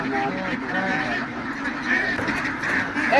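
Desi-breed ducks on a duck farm in Punjab, Pakistan, quacking nearby in a run of repeated nasal calls that overlap one another, with a faint murmur of voices behind them.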